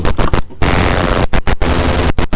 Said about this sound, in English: It's like you put it into a distortion unit. It's really fat.